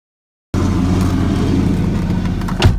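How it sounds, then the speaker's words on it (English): A 2002 Toyota Camry with the 3.0L 1MZFE V6 starts after a moment of silence and settles into a loud, steady idle close by, with a brief surge near the end. "All right, just started it up."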